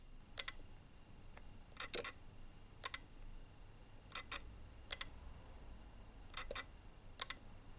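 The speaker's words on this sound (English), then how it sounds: "here's the sound of the newer X100 VI" Fujifilm X100 VI leaf shutter firing in eight soft, crisp clicks, mostly in quick pairs spaced about a second apart, fairly quiet against a hushed room background with no voices.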